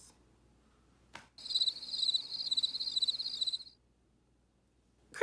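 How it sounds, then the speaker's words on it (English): Crickets chirp in short repeated bursts over a near-silent background, a steady rhythmic trill lasting a couple of seconds before stopping, standing alone as a comedic pause in a reality TV reaction. "Crickets"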